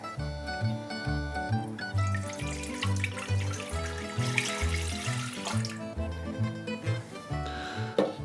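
Water pours into a mixing bowl as the first step of Neapolitan pizza dough, a soft continuous splash running under rhythmic background music.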